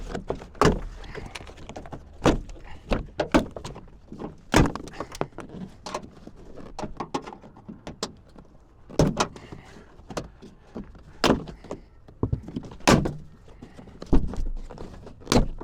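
Trunk latch trim clips on a 2001-2003 Acura TL being pried loose with a tack puller in a salvage yard, a steady series of sharp plastic snaps and clicks with knocks of the tool between them.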